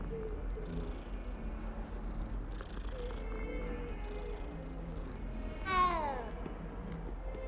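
In the Hogwarts Legacy video game, a cat purrs softly and continuously over faint ambient game sound, then gives a single clear, rising meow near the end.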